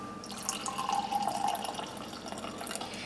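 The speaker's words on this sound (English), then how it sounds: "I need to pour some wine into the empty glass." Wine pours into an empty glass as a soft, trickling liquid splash that builds over about a second and then fades, quiet and close.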